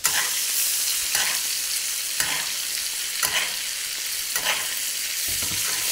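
Pancetta-wrapped monkfish frying in a pan with butter and sage leaves, a loud, close, steady sizzle with soft periodic scrapes of stirring or basting about once a second.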